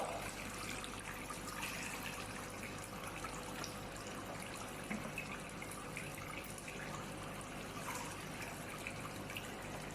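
Water runs steadily from a storage tank as its level is lowered in a school water-level control project, producing a continuous, even trickling flow throughout with no voices.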